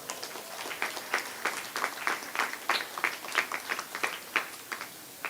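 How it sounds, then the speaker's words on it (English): A school graduation ceremony crowd breaks into applause, a moderately distant, steady patter of many hands clapping with uneven accents throughout, no talking over it. "I think that deserves a round of applause"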